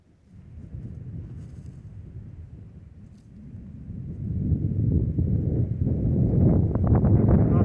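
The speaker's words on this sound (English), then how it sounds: "It's also incredibly cold and crisp and windy." Cold, gusty wind outdoors on a disc golf course, rumbling low against the microphone and building louder toward the end, with a voice speaking faintly under it.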